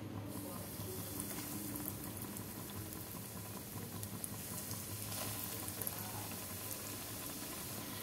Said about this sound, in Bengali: এবার একটা একটা করে ছেড়ে দেবো তেলের মধ্যে